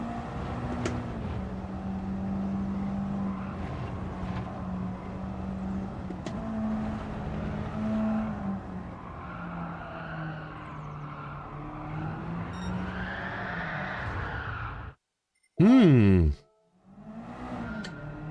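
Race car in a racing video game time trial, its engine drone holding steady for most of the clip and climbing in pitch, then cutting out before a short sharp screeching burst.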